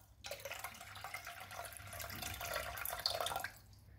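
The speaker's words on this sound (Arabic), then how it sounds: "نديرو يطروط الماء، حتى العلامة الأولى" Water poured into a Thermomix bowl, a steady close rushing pour lasting about three seconds that stops abruptly.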